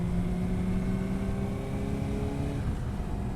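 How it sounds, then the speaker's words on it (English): A 2018 Suzuki GSX-S750 ABS motorcycle engine holds a steady, fairly muted drone while riding, with low harmonic tones and wind rush continuous throughout, no talk. "Unfortunately, you just barely hear the engine note in this bike."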